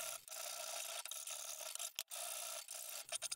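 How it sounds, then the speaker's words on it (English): A roughing file rasps steadily across metal while shaping a medieval beer tap, with long continuous strokes, one brief pause near the middle and a few shorter choppy strokes at the end, close and clear. "To move material, I will start off with a roughing file."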